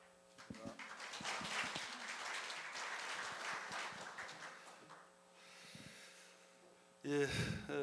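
Audience applause at the 2016 Korea University Graduate School of Labor evening ceremony: loud, dense clapping swells in after a brief pause, holds steady for several seconds, then fades before a new sound takes over.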